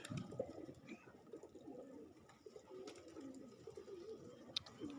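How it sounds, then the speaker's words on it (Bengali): Pigeons of several colours coo softly and repeatedly at close range, their low rolling calls overlapping continuously with no voices. "এখানে বিভিন্ন কালারের কবুতর আছে"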